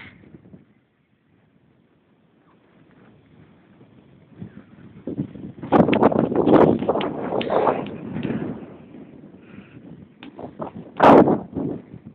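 Gusty sea wind buffeting the microphone near the shore in rumbling bursts, louder in the middle and near the end, with faint outdoor background between gusts.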